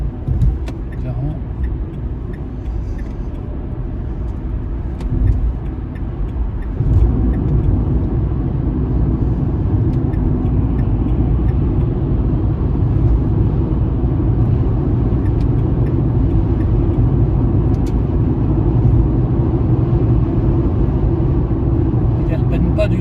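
A Dacia Spring electric car accelerates on a motorway, heard from inside as a steady low road and wind rumble that grows noticeably louder after the first few seconds and then holds constant.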